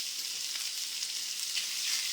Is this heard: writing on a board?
no